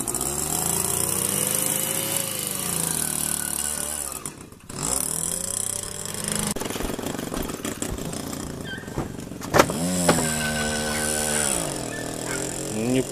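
A motorcycle engine running steadily during a test ride, loud and close, with a buzzing drone that rises and falls as the throttle changes and dips briefly around the middle.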